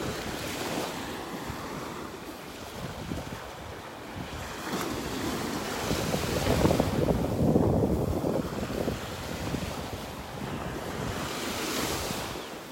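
Ocean surf on a beach in North Naples, Florida rolls in continuously with swelling and receding waves, moderately loud and close, with wind buffeting the microphone and no voices.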